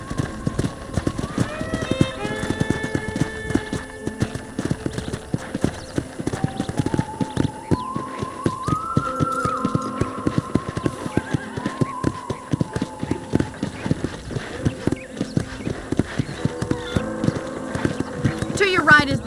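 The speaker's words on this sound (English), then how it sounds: "let's see if you can still ride a horse." Horse hooves in the Red Dead Redemption video game clip-clop in a steady, continuous rhythm, close and prominent, with game music playing and people talking over the top.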